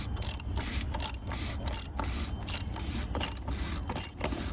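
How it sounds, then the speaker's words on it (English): A ratchet wrench clicks in repeated quick bursts, about eight strokes, as it tightens an oil filter cap on a Freightliner Cascadia truck with a DD15 engine, close up and with no talk. "Once it gets a little tight, you go back to your wrench. Just start tightening it up."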